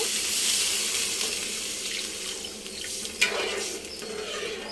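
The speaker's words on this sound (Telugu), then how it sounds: "టూ గ్లాస్ వాటర్ పోసి" Two glasses of water gush into a hot pan of fried tomatoes with a rushing hiss that gradually settles, followed by a short clatter of a utensil.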